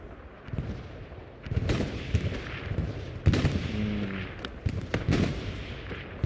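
Katyusha rocket artillery in Hell Let Loose, a ragged series of booming launches and distant blasts overlapping one another, with a few sharper cracks of gunfire mixed in, fairly loud and continuous.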